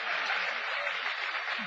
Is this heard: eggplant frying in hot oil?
no